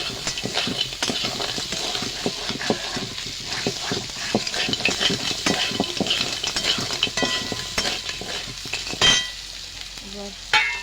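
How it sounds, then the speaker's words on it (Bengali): Crab pieces frying and being stirred in a pan of well-cooked spiced masala with chili powder, giving a steady close sizzle broken by repeated scraping and clinking stirs throughout. "লঙ্কা গুঁড়ো, মশলা ভালোভাবে কষিয়ে নিয়েছি। এবার কাঁকড়া মাছগুলো দিয়ে দেবো।"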